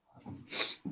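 A single sharp human sneeze, close and loud, preceded by a short breathy intake, with a voice starting right after it.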